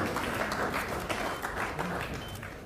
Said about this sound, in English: put your hands together